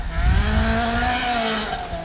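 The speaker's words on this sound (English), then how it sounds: "That engine in that Toyota just sounds so sweet as it goes past us here." A rear-wheel-drive Toyota rally car at a rally sprint sweeps past with a loud, sweet engine note, the pitch falling slightly as it goes by, with gravel and wind noise underneath.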